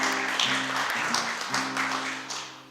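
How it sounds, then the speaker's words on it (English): An audience at a live folk performance at Art Share applauds, a broad hiss of clapping under sustained organ-like tones that fades toward the end. "Give yourselves a round of applause."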